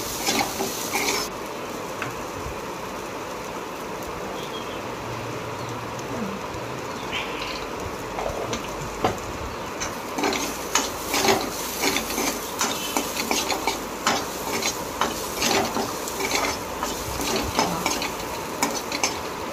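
A spoon stirs and fries an onion samosa filling with garam masala and coriander powder in a pan, giving a steady sizzle with repeated scraping and clinking that grow busier toward the end.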